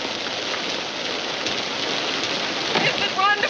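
Rain falling steadily outdoors, a soft continuous hiss at moderate level, with voices talking briefly over it near the end.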